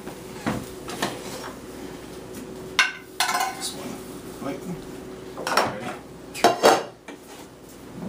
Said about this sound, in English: I'm going to move them over this way, right here.